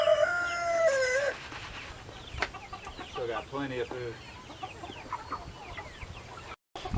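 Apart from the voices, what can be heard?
meat chickens clucking and a rooster crowing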